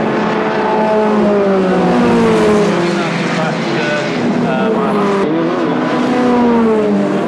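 Sports 2000 race cars in a 1998 pilot race series complete a lap at a circuit, engines droning loudly and steadily with shifting pitch, mixed under continuous commentary.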